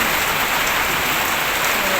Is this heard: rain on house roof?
yes